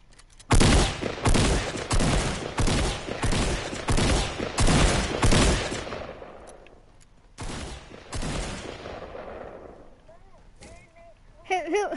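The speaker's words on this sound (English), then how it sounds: "What's going on? I hear shooting." Rapid bursts of gunfire from a Fortnite match, a dense run of loud, close shots in clusters, then a pause and a few more bursts, with brief game sounds at the end.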